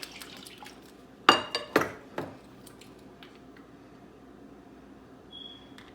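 Frank's RedHot sauce being spooned into a dish for chicken tenders: a few quick wet splats and drips close by, with light clinks of a spoon against glass, then quiet.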